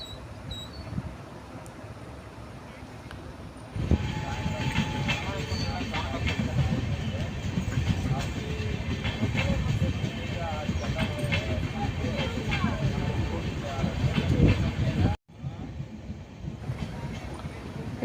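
A train rolling past a railway level crossing in a village, a sustained loud rumble and rhythmic wheel clatter starting abruptly and running steadily, with wind noise and someone speaking over it.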